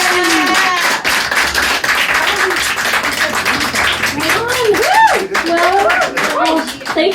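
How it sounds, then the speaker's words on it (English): At a live question-and-answer show, an audience claps enthusiastically for a guest while voices cheer and whoop over the clapping, the hand claps crisp and close amid lively shouting. "Give him a big round of applause."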